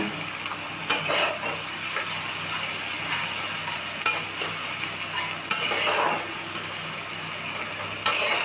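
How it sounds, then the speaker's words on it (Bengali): Garlic paste and ginger paste frying in oil in a pan as the spice mix is cooked down, a steady soft sizzle under occasional scraping stirs and a few sharp clinks of a utensil against the pan. "মশলাটা একটুখানি কষিয়ে নেব।"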